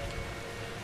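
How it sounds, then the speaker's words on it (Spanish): Steady rain falls in a soft, continuous hiss, faint and even throughout the short moment, in the video game Outlast 2. "Es una lluvia normal."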